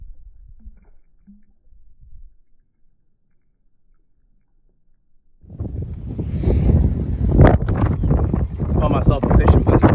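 Strong gusts buffet the microphone outdoors at a lakeside during early spring bass fishing, starting faint and low for a few seconds, then roaring in loud, continuous and rumbling from about halfway through.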